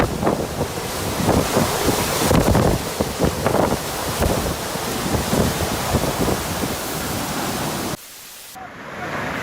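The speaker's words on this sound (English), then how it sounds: "The strength of the wind is incredible." Strong wind roars through trees in a loud, continuous rush that surges and gusts, then drops sharply near the end.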